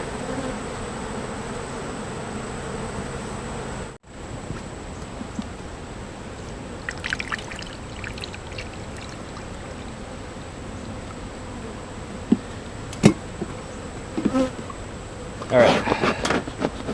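Honeybees drone steadily from an open hive being smoked by a beekeeper, a continuous buzzing hum filling the clip with brief clicks and knocks of equipment near the end.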